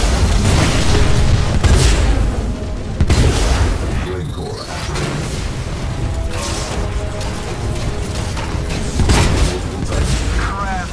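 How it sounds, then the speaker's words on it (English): Mortar titans firing rockets from a distance in Titanfall 2, heard as repeated heavy booms and rumbling launches over dense, continuous game combat noise. "This wave is stocked with mortar titans. These guys launch rockets from afar."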